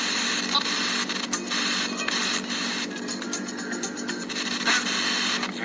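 A cheap Chinese radio receiver hisses with continuous static, squeaking and whistling tones and stuttering crackles, loud and unbroken throughout.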